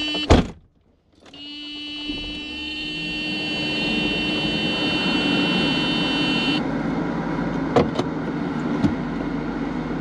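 A Mercedes-Benz R129 SL roadster sets off on a test drive after a door thunk, its engine and cabin hum holding steady with a high electrical whine fading partway, plus a few sharp clicks.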